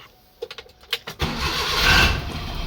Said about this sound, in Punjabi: ਸਟਾਰਟ ਕਰ ਲਈ ਗੱਡੀ